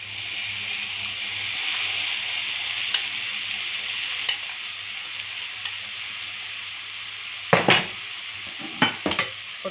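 Tomato sauce added and stirred into a frying pan while cooking stuffed cabbage, giving a soft steady sizzle with faint utensil taps, then a few louder scraping stirs toward the end.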